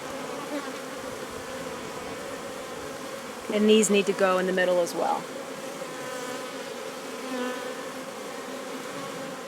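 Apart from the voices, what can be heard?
honeybees buzzing in hive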